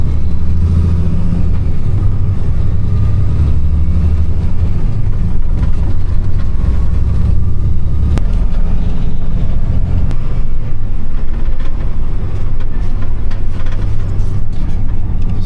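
Train passing a waiting semi truck at a crossing, heard from inside the cab as a loud, steady low rumble with rhythmic wheel clatter and a few sharp metallic clicks, continuous throughout with no talk.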